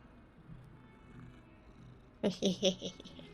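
A cat in Hogwarts Legacy gives a short run of close, soft pulsing rumbles at the very end, following a quiet ambient stretch.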